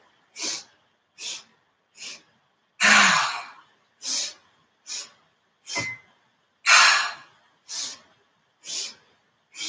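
Slow, deliberate breaths during a guided breathing exercise, a series of soft airy inhales and exhales spaced a second or so apart, with two longer, deeper breaths standing out, close to the microphone and without talk.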